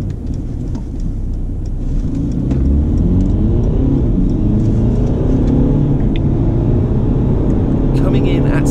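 A 2018 Mercedes-Benz C250 Cabriolet diesel AMG Line accelerates hard from 0 to 60, its engine droning low and steady and climbing through the gears, with a loud rumble inside the cabin throughout.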